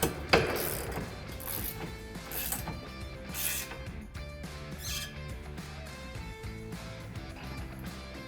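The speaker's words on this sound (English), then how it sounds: "When the measurements are exact, you may tighten the 2 carriage bolts." Two carriage bolts are tightened on a BACKRACK SRX headache rack bracket, with a short run of ratcheting clicks and metallic mechanical ticks, close and fairly quiet.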